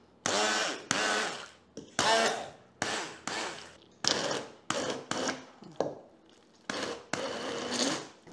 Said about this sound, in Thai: เดี๋ยวเราจะมาลองใช้เครื่องปั่นแบบมือถือกันบ้างค่ะหรือว่าเบลนเดอร์